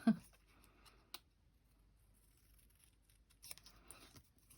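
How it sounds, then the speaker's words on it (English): Scissors cutting paper for a handmade Christmas card, a few quiet, sparse snips and clicks close by with near silence between them. "just snip across here"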